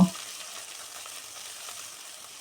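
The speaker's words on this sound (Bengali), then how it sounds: "এবার মশলাগুলো সব ভালোভাবে ভেজে নেব" Spice paste with cashews frying in a pan for chingri malaikari, a soft, steady low sizzle after a brief knock at the start, fairly quiet throughout.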